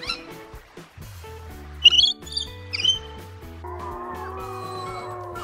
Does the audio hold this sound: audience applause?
no